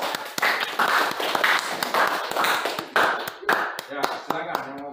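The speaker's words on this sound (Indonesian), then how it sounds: "tepuk tangan dulu buat kelompok" An audience applauds a student group in a classroom with a brisk burst of many hands clapping, mixed with scattered voices and taps that thin out toward the end.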